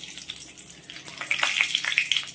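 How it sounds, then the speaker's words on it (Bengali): A torn bay leaf hits hot oil in a pan and sets off a bright, hissing sizzle that swells in the second half with quick spitting crackles. The frying is close, with no voices. "এবার ওই তেলে একটা তেজপাতা ছিঁড়ে দিয়ে দেব"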